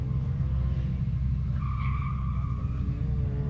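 A boosted four-cylinder Ford Mustang EcoBoost at an autocross event, its engine droning steadily with a brief tire squeal or skid partway through, loud and continuous with no talk.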